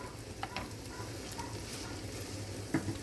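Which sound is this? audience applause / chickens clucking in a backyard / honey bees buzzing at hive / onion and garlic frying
onion and garlic frying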